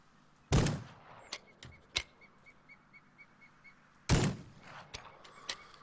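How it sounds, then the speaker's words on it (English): Gunfire from guns in the Rising World video game demo: two loud booming shots a few seconds apart, with sharper clicks and faint repeated chirping tones between them. "Okay, so let's try out these guns."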